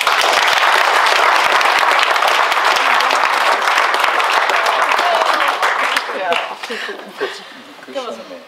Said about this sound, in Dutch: Dus we willen een hartelijk applaus voor haar.